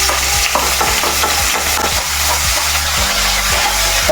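Ginger sizzles in hot coconut oil as a spoon scrapes and stirs it around the pan in a steady rhythmic pattern, loud and close, with no talking.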